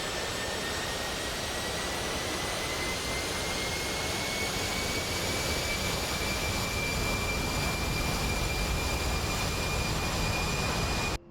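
An A-10 jet in the DCS World game spools up for takeoff in a Fulda Gap 1985 scenario, a loud steady engine roar with a rising whine that builds and holds before cutting off abruptly, no speech.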